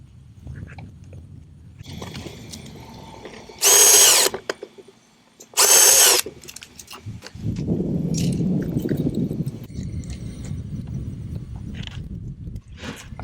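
Power drill driving screws into a wooden American kestrel nest box, two loud, close bursts of high whirring, followed by a lower, duller rumbling of handling and work noise.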